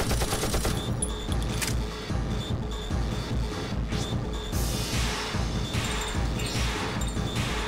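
Rapid bursts of gunfire from a Shadow Hearts: Covenant battle, dense and loud, crackling shots piling together in a steady fusillade with sharp impacts, no voices.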